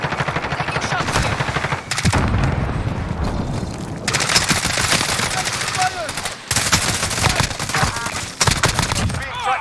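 Rapid automatic gunfire in the Warzone video game, loud and sustained across the whole stretch in dense bursts with short breaks, alongside other in-game combat noise.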